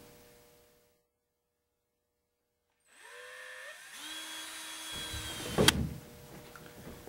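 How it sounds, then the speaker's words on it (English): A power drill whirs steadily after a short silence, its pitch settling as it bores a hole through wood for a T-bolt in a miter fence stop block, then a brief louder burst near the end. "we just need to drill a hole in the top for the T-bolt to go through"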